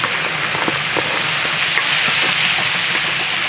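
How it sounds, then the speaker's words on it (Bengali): Green chillies, cumin and chopped garlic sizzling in hot oil, a loud, steady broadband hiss that stays constant throughout, close and with no voices. "তেলে হিট দিয়ে দিলাম কাঁচামরিচ"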